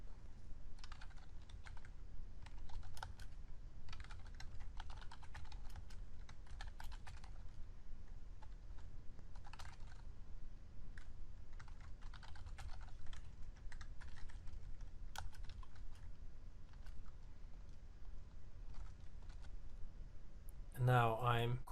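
Computer keyboard typing PL/SQL code, with bursts of clicky keystrokes in uneven clusters and pauses, close and moderately loud over a steady low background hum.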